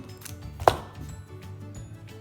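A knife cuts through butter into cubes for scone dough: a single sharp, close chop against a board, followed by quieter kitchen rustle.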